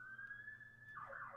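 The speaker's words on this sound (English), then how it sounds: "That's the police in the background. There's a siren." A police siren wails faintly in the distance, holding a steady tone and then starting to sweep up and down, quiet and alone.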